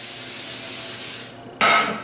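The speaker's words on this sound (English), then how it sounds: "Then you want to take this one and spray it" A close spray hiss runs steadily, thins briefly, then bursts back louder and brighter for a final short blast.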